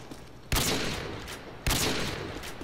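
Two heavy sniper rifle shots ring out in a video game, each a sharp, loud crack about a second apart, followed by a long echoing rumble.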